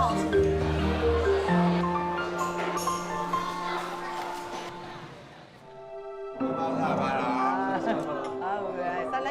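Dairy cows moo on a dairy farm, several long, low calls overlapping and rising loud and close, with people talking in the background.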